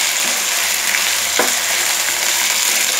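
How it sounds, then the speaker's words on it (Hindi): Chicken frying in a pan while being stirred, a loud, steady sizzle with a single scraping stir partway through. "हमें इसे अच्छी तरह से चलाते हुए कलर चेंज हो जाने तक इसे फ्राई करना है।"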